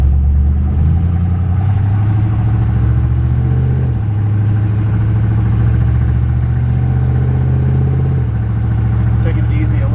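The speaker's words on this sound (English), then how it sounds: "Got a great sounding exhaust." A 1972 Chevrolet C10 pickup with a small block V8 and a loud exhaust idles close by, its deep burbling note stepping up and down slightly with gentle blips of the throttle.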